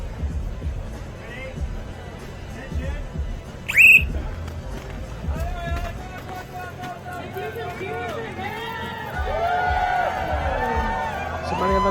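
A crowd of thousands at a speed final of an outdoor ice climbing World Cup in Denver murmurs and cheers, with a sharp whistle blast and rising whistles under steady commentator talk.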